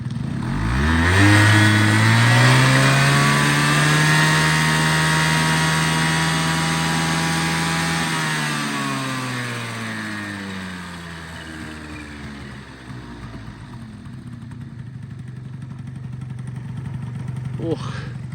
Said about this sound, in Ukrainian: Оцініть, будь ласка, хто розбирається роботу двигунчика, як вам на слух.